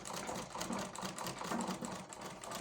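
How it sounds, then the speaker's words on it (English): Sewing machine stitching around a hidden pocket on a fabric bag, a steady, continuous rapid mechanical whir with fine ticking running the whole time at close range, with no voices. "So I'm going to be sewing it around."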